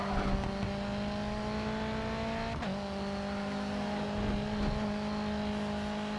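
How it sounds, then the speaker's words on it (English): A high-revving touring car engine in the racing video game Grid 2 drones loudly and steadily, its pitch dipping briefly partway through as if shifting gear, then climbing again. "Love the sound of the touring cars"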